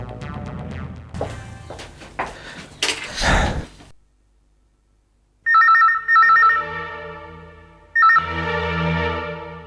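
A telephone rings in a domestic scene from a Bengali TV serial, two sharp bursts of electronic bell ringing after a door-like rattle and silence, loud and close.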